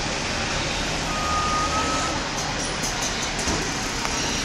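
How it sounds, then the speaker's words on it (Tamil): Reversing beeps ring out over a steady wash of vehicle noise and traffic at a bus stand on Mahakavi Bharathi Nagar main road, the alarm faint and continuous beneath broadband engine rumble, with no speech. "இதுதான் பஸ் ஸ்டாண்டு."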